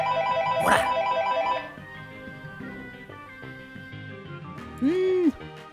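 A phone rings with a repeating electronic tone for a couple of seconds, then quieter background sounds follow and a voice speaks briefly.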